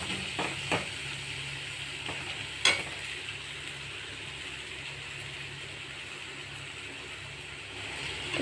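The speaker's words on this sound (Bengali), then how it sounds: "হালকা একটু কষে নেবে" Ginger and chili paste sauté lightly in oil, giving a faint, even hiss with a few scattered clicks of stirring against the pan.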